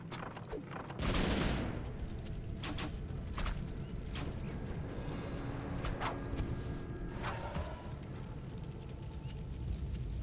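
Warcraft 3 battle, a dense clash of weapon hits, impacts and effects in a steady rumbling mix, with a sharp burst near the start and scattered strikes throughout.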